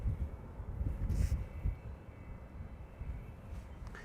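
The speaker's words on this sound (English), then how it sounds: "KLM flight 1959 to Istanbul, Turkey, 737-700" A KLM Boeing 737-700 departs Amsterdam Schiphol bound for Istanbul, its jet engines giving a steady, fairly distant low roar that swells slightly and then holds.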